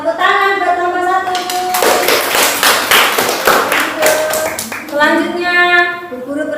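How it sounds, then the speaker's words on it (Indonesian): Children clapping in a classroom after a group presentation, a short burst of taps and thuds set between stretches of speech. "Tepuk tangan buat nomor 1."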